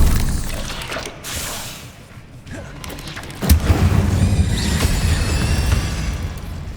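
Incendio fire spell in Hogwarts Legacy erupts with a sudden loud boom midway, followed by a roaring crackling blast, after quieter whooshing spell effects.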